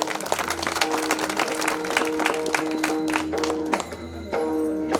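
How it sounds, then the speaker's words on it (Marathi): An outdoor village crowd claps for the Chandtale team at a prize-giving during a palanquin dance troupe event, a sustained round of applause that tapers briefly before picking up again. "चांदतळे संघासाठी जरा जोरदार टाळ्या होऊ द्या"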